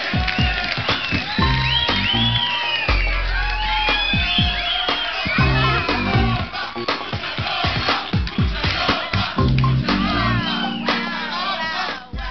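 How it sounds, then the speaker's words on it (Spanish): A studio audience cheers, whoops and shouts for Griselda López, loud excited voices rising and falling over scattered clapping for the whole stretch. "un aplauso para Griselda López"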